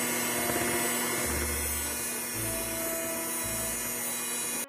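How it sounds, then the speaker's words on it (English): An electric hand mixer whirs steadily as it blends donut batter in a bowl, a close, high motor whine with low rumbling surges as the beaters work. "Now you want to take a hand mixer and you want to blend it until it's nice and smooth."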